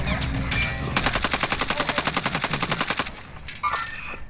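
A sustained burst of rapid automatic gunfire in Call of Duty: Warzone, evenly spaced loud shots lasting about two seconds, followed by scattered quieter game sounds.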